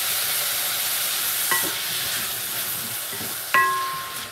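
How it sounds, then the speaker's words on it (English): Vegetables sweat in a pot for Jamaican-style brown stew salmon, giving a steady loud sizzle with a couple of brief metallic clinks from stirring. "Sweat off all of that vegetables in that pot."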